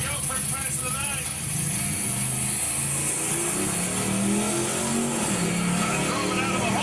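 A 1964 Mercury Comet Caliente drag car roars through a pass at night, its engine a loud, steady drone rising in pitch as it accelerates, with crowd or track noise and some talk underneath.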